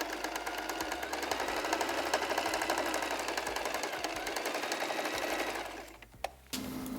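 A sewing machine stitching the pocket onto an apron runs at a fast, steady mechanical rattle for about six seconds, then stops with a few faint clicks.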